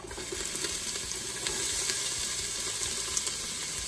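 Diced vegetables for quesadillas sizzle steadily in hot oil, a continuous crackling hiss with scattered pops, close by and with no talking.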